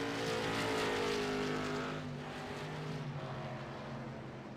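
Limited late model race cars roar around a short track during a Short Track Scrambler Series race, a loud sustained engine drone with layered revving that eases slightly as the pack moves on.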